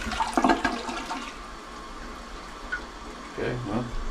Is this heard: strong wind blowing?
no